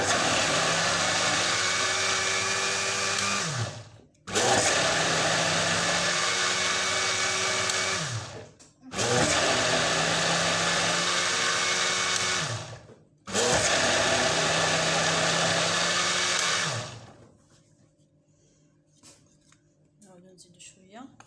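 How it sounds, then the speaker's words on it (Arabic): An electric grinder whirs loudly as it grinds flour for an economical cake, running in four steady bursts of about four seconds each with brief pauses between, then cutting off to near silence. "دابا غنطحنو هاد الدقيق مزيان"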